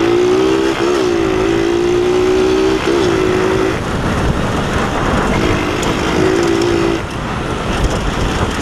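A small Moby moped engine runs close by with a buzzing, droning whine whose pitch rises and wavers in two stretches. Rough road rumble fills the gaps between them.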